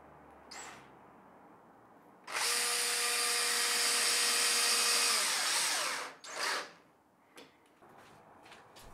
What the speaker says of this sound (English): I fit the first two corner screws using the same sequence specified in the instructions